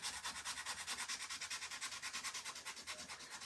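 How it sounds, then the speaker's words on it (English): Light hand sanding of a painted wooden gnome sign, a soft rhythmic rasp of rapid back-and-forth strokes repeating evenly at close range and fairly quiet, with no voices. "I'm just going to lightly sand."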